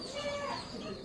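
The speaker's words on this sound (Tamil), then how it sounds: "பாருங்க, இந்த சைடு கோழி குஞ்சு, இதையும் ஃபீட் பண்ணலாம்." Chicken and chick at an outdoor park farm area cluck softly among background murmur, a few brief calls close by and fairly faint.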